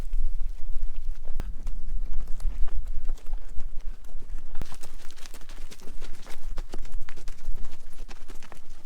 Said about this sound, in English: we opted to ride the donkeys, or burros, thinking it would be a fun and unique experience